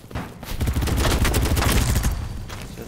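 Light machine gun fire in BattleBit Remastered: a loud, sustained stream of rapid shots close by, hammering without a break for a few seconds.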